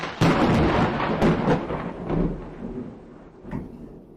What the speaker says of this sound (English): Now it sounds like the thunder rolls.